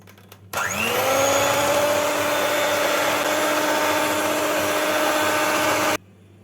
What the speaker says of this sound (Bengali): এইভাবে ফ্ল্যাপি করে ফেটিয়ে নিলাম